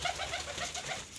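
Pigeons cooing in a loft, a soft repeated rhythmic coo close by, with no voices.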